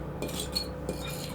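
A fork flicks through flour and mustard powder in a bowl for cheese scones, making faint, close scraping and light clinks over about a second and a half.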